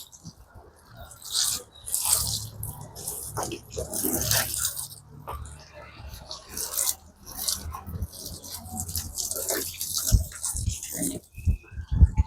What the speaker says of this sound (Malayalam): ഏറ്റവും ഉയരമുള്ള ഭാഗം ആദ്യം വെള്ളം ഒഴിക്കുക.